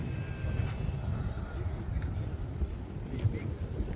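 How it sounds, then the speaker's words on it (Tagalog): Strong wind buffeting the microphone at the Daklapan site in a constant low rumble, with faint distant sounds in the background. "ngayon ay malakas ang hangin. Malakas ang hangin dito"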